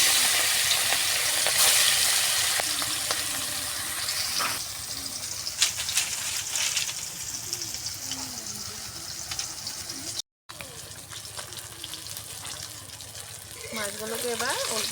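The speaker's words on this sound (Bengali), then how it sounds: "এবার তেল গরম হয়ে গেছে, মাছগুলো ভেজে নেব।" Rohu fish pieces fry in hot oil with a continuous bubbling sizzle, broken by scattered clicks and clatter from the pan and a brief dropout near the end.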